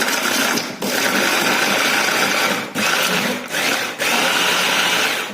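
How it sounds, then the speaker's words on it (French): Two small onions are chopped with a loud, continuous motorized whirring, like a food chopper running close, briefly dipping several times between bursts. "j'ai pris 2 petits oignons, voilà, que je vais hacher. Je vais hacher mon oignon."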